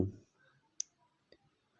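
Mouse clicks while filling in an online PAN card application form on a computer: two crisp, faint clicks spaced about half a second apart, in a quiet room with a brief low sound at the very start.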